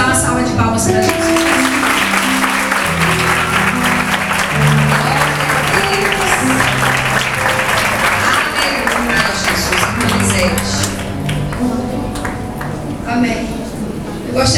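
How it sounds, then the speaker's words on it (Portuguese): A church congregation at an adolescents' congress of an Assembly of God church claps loudly and continuously, with music playing underneath and voices mixed into the applause throughout. "Vamos dar uma salva de palmas para Jesus."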